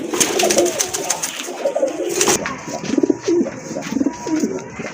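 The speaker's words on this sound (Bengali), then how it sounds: "মাশাআল্লাহ আরেক জোড়া কবুতর দেখতে পাচ্ছেন, খুবই চমৎকার, অনেক বড় সাইজের এক জোড়া বিউটি হোমা কবুতর" A pair of large Beauty Homer pigeons coo close by in repeated soft throaty phrases, with rustling and light knocks in between.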